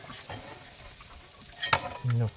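Oil sizzles faintly as fish fries, with a few sharp clinks of a utensil against the pan and a brief louder scrape near the end.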